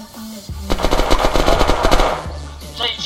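Rapid bursts of automatic gunfire ring out at close range, dense and sustained for a couple of seconds before fading, with no talk over the shots.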